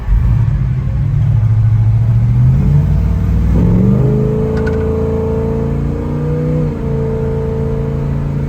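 A 1966 Chevrolet El Camino with a 427 V8 accelerates with a deep, rising engine rumble, shifting pitch as it pulls away, loud and close, with no talking.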